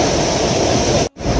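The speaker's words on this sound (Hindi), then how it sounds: "ये देखो दोस्तों बीच में एक झरना, जो कि पहाड़ से पानी आ रहा है एकदम झरना" A mountain waterfall on the route to Kedarnath, heard in rain as a steady, loud, broadband rush of falling water that fills the clip, with a brief dropout near the end before the roar resumes.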